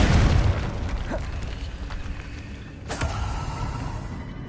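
A Confringo blasting curse bursts in Hogwarts Legacy with a loud, booming explosion at the start. A rumbling, debris-filled tail follows and fades, and a second, smaller burst comes near the end.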